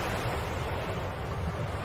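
Tsunami waves crash onto the shore in a continuous, dense roar of surging water with no breaks, loud and close, with no voices.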